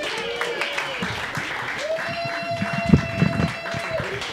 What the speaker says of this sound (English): Let's give a big round of applause for Mr. Joseph Rogers.